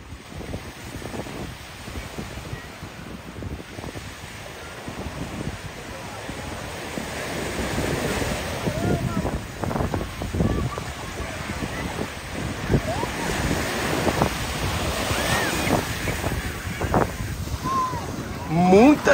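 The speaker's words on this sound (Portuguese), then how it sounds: "Estamos na Praia de Boa Viagem" Ocean waves and surf roll in at Boa Viagem beach in Recife, Pernambuco, with a steady wash of breaking water, wind buffeting the microphone and faint voices from a busy beach.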